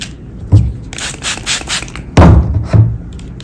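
A rattan strand is pulled tight through a hole while making a bear-shaped rattan mood-light mobile, heard as close scraping rubs and a couple of sharp thuds, in short bursts with quiet gaps.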